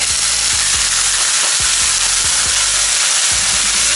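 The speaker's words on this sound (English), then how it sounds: "you are steaming and pan frying it at the same time" Steady, loud sizzling and hissing of dumplings frying in a hot pan with water added, bursts of steam and occasional soft knocks, no voices.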